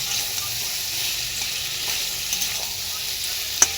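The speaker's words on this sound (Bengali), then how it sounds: "অল্প একটু চিনি দিয়ে চিনিটা দিয়ে এরকম মিক্স করে নেবো" Sugar stirred into onion and potato frying in oil for fish curry, a steady close sizzle with soft stirring and one sharp clink near the end.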